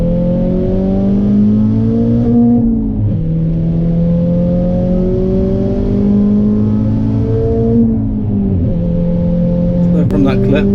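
A loud stage 3 tuned Ford Fiesta ST180 engine with a turbo leak from a detached decat drones and revs in steady harmonic sweeps at Castle Combe circuit, dipping and rising twice, with a brief rattly burst near the end.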